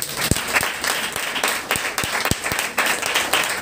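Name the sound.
congregation clapping during Sunday worship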